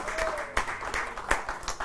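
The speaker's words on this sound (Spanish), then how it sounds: "Señores, pues el aplauso fuerte para Don Eliseo Robles" Crowd gathered at a carne asada applauding Don Eliseo Robles: a brief burst of clapping with a few sharp claps standing out, with a voice faintly heard near the start.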